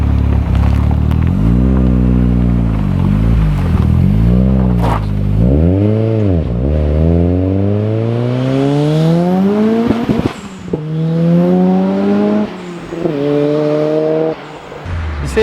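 A Ford Sierra Cosworth fitted with a touring car spec engine, anti-lag and launch control, revving loud and close, then climbing repeatedly through rising pitch sweeps as it accelerates, with occasional sharp pops between gears.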